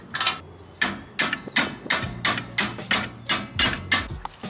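Hammer blows strike old rusty boat seat rails in a steady series of about a dozen sharp metallic knocks, close and fairly loud.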